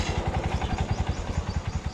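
A Honda Supremo 150 motorcycle engine runs close by with a steady, low, rhythmic thumping like a rough idle just after starting. No one speaks.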